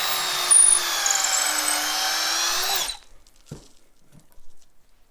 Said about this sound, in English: And then you just drill a pilot hole straight into the wood.